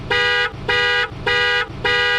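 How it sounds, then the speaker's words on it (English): A car horn honks in four long, evenly spaced blasts, loud and close, each held about half a second with a brief gap between, on a road in Thailand. "if you honk the horn like that, it must be a problem for sure"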